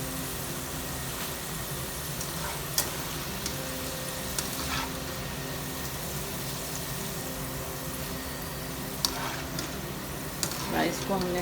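Potato fries frying crisp in hot oil give a dense, continuous close sizzle and bubbling with occasional clicks and clatters, while a person talks over it.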